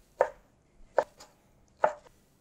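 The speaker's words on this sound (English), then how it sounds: "Okay, we're just basically cubing it." A knife cubing guanciale on a cutting board: three distinct, close, sharp chops spaced evenly apart, with a faint extra tap after the second, over near silence.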